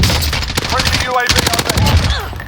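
Rapid automatic gunfire in Call of Duty: Modern Warfare rattles loudly and close in dense bursts, mixed with game effects and a voice speaking over it.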